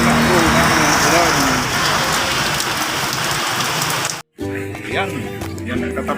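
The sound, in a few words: rain falling at a public market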